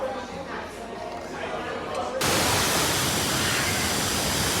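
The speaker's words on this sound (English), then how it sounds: "It's only raining" Heavy rain hiss fills the air in New Zealand, starting abruptly and staying loud and steady after a quieter stretch of faint background murmur.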